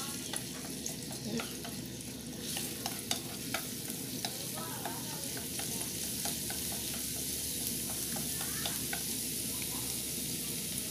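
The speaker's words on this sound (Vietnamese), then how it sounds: "Mình sẽ cho cái phần tỏi mình băm vô khử cho nó thơm" Minced garlic sizzles steadily in a hot pan while a utensil stirs and scrapes at it now and then, with no talking.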